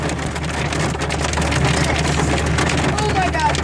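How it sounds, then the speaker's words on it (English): Hail and snow falling outdoors near the Grand Tetons in 37-degree weather, a dense steady patter of small impacts across the whole stretch, loud and close, with voices talking faintly underneath. "hailing and snowing here"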